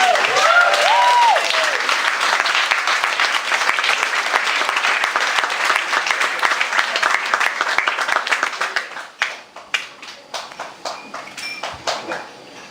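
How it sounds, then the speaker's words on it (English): A fundraiser audience breaks into loud, sustained applause with a brief whistle early on, the clapping holding strong for most of the clip before tapering into sparse individual claps. "Can you please join me in a round of applause for Sam Bowden?"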